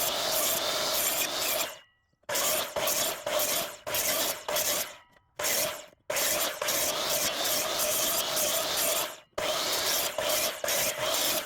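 Cutting and trimming a wooden mailbox post with a power tool, loud continuous rasping and grinding in long runs broken by a few abrupt silent gaps.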